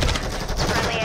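Dense automatic gunfire in a Modern Warfare 3 multiplayer match, a loud continuous burst of rapid shots filling the moment with voices mixed in underneath.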